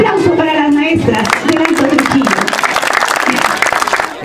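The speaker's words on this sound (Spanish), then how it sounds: "Un aplauso para las maestras." Applause for the teachers breaks out at a municipal kindergarten fair in Trujillo, a dense, steady clatter of clapping that starts under a speaking voice and then carries on alone to the end.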